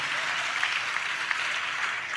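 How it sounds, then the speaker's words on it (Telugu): A church congregation claps in praise of Jesus, a steady, even wash of applause from many hands, moderately distant and unbroken throughout. "చప్పట్లు కొడితే యేసయ్యకు స్తోత్రాలు చెప్దాం"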